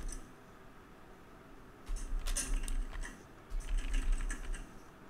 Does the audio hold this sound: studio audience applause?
no